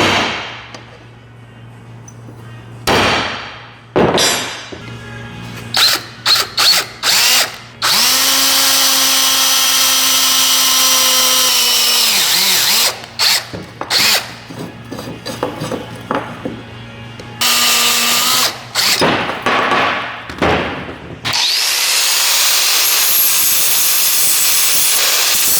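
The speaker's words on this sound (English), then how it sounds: "just center punch them so the drill bit doesn't wander around when I try to drill it" A power drill boring into metal during an old-school bobber motorcycle build, loud whirring bursts that start and stop repeatedly, with sustained runs and short pauses between them.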